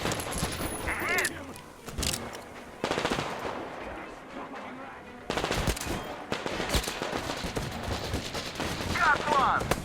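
Loud machine-gun bursts and scattered gunshots in a shootout in the video game Metro Exodus, with repeated rattling volleys that come and go among shouting voices and other battle noise.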